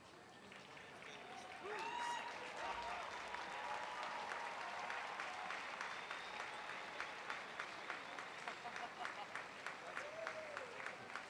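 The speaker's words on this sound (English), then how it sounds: "Big round of applause." Crowd applause at an equestrian show, a steady wash of clapping from a large audience that swells after the first two seconds and continues, with a voice briefly heard over it.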